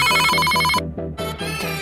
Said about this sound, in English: The phones wouldn't stop ringing.